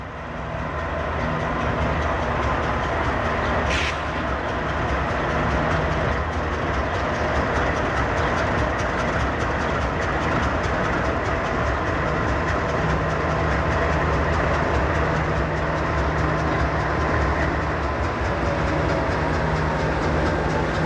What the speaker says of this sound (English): we catch them one more time as they glide to the yard with the train at their back